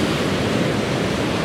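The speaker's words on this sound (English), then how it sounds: "You can hear and probably feel that water coming in" Ocean water washes in over a seashore in a continuous loud broadband roar of surf that stays level throughout, with no voices.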